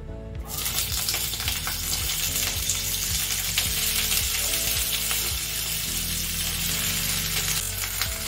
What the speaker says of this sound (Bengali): অল্প তেল দিয়ে প্রথমে আমি আগে শিমগুলোকে ভাজবো, একদম কম তেলে ভাজবো